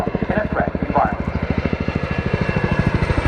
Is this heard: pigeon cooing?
no